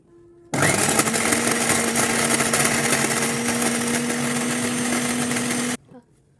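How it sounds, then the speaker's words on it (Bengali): A kitchen blender whirs steadily for about five seconds as it grinds torn fried bread into breadcrumbs, a loud continuous motor drone that starts abruptly and stops just as suddenly. "এখন টুকরো টুকরো করে ছিঁড়ে তারপরে ব্লেন্ডার করে নিব।"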